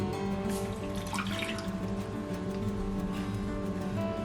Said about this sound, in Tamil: இப்போ இந்த மண் சட்டியை நான் வந்து கழுவி